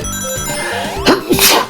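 A person sneezes sharply twice in quick succession, loud and close, over a steady background of game music during a livestream about a Sonic hacking contest.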